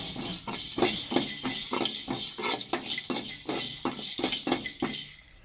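Cumin, black pepper and dried chillies with coriander seeds dry-roasting in a bare pan, a steady dry rattling and scraping of spices against metal with regular clinks of a stirring spoon, close up and with no talking.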